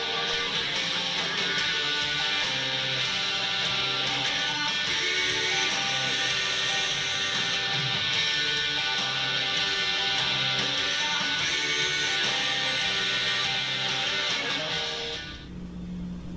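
Electric guitar playing the verse progression of a song, strummed steadily at a full, even loudness for about fifteen seconds before it stops.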